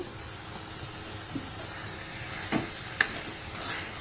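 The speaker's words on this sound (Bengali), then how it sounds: "এবার এখানে আমি দিয়ে দেব পনিরগুলো সব ধুয়ে কেটে রেখেছি" Cut paneer pieces go into a pan of hot, sizzling masala, giving a steady close hiss with a few soft knocks and stirs.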